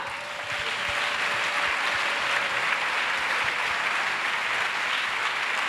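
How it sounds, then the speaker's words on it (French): A church congregation claps together in a steady, unbroken wash of many hands, loud and even throughout with no talking over it. "Acclamation. Clap."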